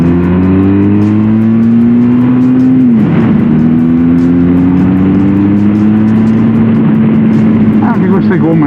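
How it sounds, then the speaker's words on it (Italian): Benelli TRK 502 X 2022 motorcycle, 500 cc, cruising in second gear, with a steady close engine drone that dips and rises in pitch as the throttle changes, under strong wind noise and a voice talking over it. "La moto ha anche un bellissimo sound, scoppietta piacevolmente."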